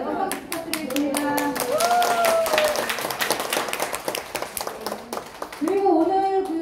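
An audience of teachers applauds at the close of a lecture, a dense patter of clapping that runs steadily throughout while several people talk over it.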